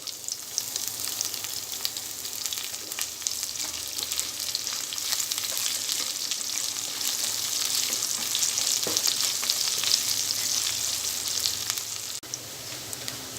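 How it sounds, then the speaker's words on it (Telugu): Onions, green chillies, cumin and biryani masala frying in hot oil for baby corn biryani, giving a steady, dense crackling sizzle close up that runs almost unchanged throughout, with only faint occasional stirring and no voices. "బిర్యానీ మసాలా, జీలకర్ర, పచ్చిమిర్చి, ఉల్లిపాయ ముక్కలు వేసుకొని ఫ్రై చేసుకోవాలి."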